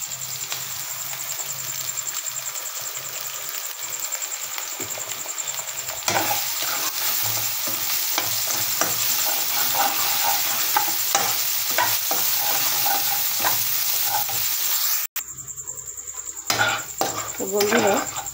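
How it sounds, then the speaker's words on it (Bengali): Egg frying with onions in a pan while noodles are being prepared, a continuous sizzle with repeated scraping and stirring clatter. It grows louder partway through, then briefly cuts out before the sizzling resumes. "আমার ডিমটা ভাজা হয়ে গেছে"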